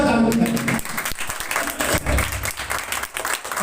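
Congregation at a church service clapping loudly together, a dense sustained burst of applause with a voice audible over it at the start.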